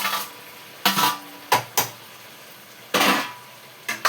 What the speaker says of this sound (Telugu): ఇప్పుడు మనం ఇందులో ఈ బాయిల్ చేసిన బంగాళదుంపలు వేసేసుకుందాం.